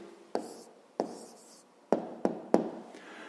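A pen writes down a maths answer on paper in five short, sharp strokes with pauses between them, close and quiet, with no talk.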